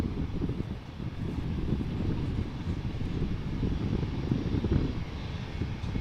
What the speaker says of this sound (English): We also have an E2 Embraer 195 taking off to Bologna.